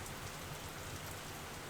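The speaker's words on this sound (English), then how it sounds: "The rain's kind of distracting," Steady rain falls, a dense, even hiss of drops with no breaks or thunder and no voices over it.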